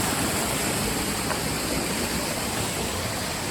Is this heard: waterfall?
yes